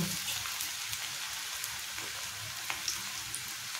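Chama leaf (taro leaf) pakodi frying in hot oil, a dense continuous sizzle with scattered small pops and crackles, close and steady with no talking.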